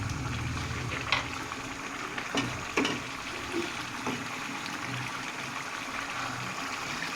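Thick potato and eggplant curry bubbles and sizzles steadily up close over high flame as its water cooks off, with a few sharper pops standing out from the constant simmer.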